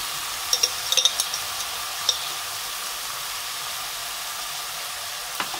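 Ghee sizzling in a pan for adobong takway: a steady, soft frying hiss throughout, with a few faint clicks near the start and no talking.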